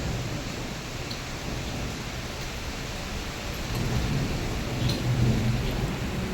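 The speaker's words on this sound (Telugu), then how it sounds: "పెద్ద పెద్ద మెరుపులు సౌండ్ వినిపిస్తుందా మీకు" Heavy rain falls continuously in a rainstorm with strong wind, and a deep rumble of thunder swells toward the end, all fairly close and with no talking.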